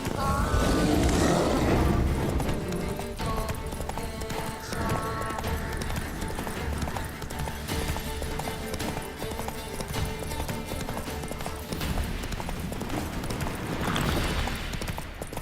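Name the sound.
Roach the horse galloping, from the video game Witcher 3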